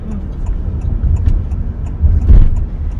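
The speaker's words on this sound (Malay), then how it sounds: "So sekarang kita dalam mode hybrid lagi. Kereta memang sangat senyap." A 2022 Honda City Hatchback RS in hybrid mode, driving with a low, steady road rumble and a quiet cabin, with a slightly louder swell near the end.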